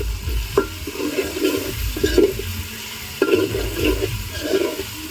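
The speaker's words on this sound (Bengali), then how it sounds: "দিলাম একটু নাড়াচাড়া করলাম একটু নড়াচড়া করলাম" Chili chicken with garlic being stirred in a frying pan, with repeated scraping, sizzling strokes in a steady rhythm, close and fairly loud, with no voices.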